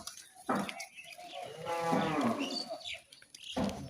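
A cow moos loudly and close by in a long drawn-out call at a beef market before slaughter, with shorter bursts of livestock noise before and after.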